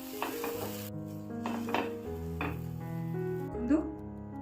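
Pav bhaji is stirred and mixed in a pan, with a spoon scraping and clinking against the metal over a faint sizzle and a steady background hum.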